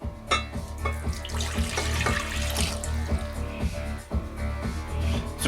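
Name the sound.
very warm water being poured for rye pizza dough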